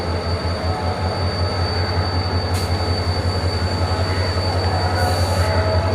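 The Shah Hussain Express passenger train pulls into a station platform with a continuous heavy rumble, rhythmic wheel clatter, steady hum and two brief bursts of high wheel squeal, loud and close.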